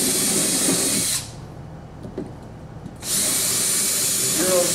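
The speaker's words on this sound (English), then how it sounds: "Drill out for" A power drill with a 5mm bit bores holes for Euro screws while a sliding door organizer is being fitted, whirring loudly in one long burst, falling quiet for a couple of seconds, then starting again just as strongly.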